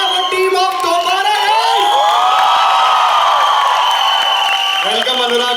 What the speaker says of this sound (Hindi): जोरदार तालियां for टीम ऑफ दोबारा